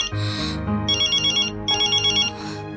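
A mobile phone plays an electronic ringtone in bright repeated melodic bursts, several pulsing phrases separated by brief gaps, close and clear with no talk over it.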